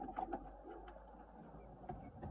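Pigeons in a loft coo softly and repeatedly, a low murmuring rhythm close by with faint shuffling in the background.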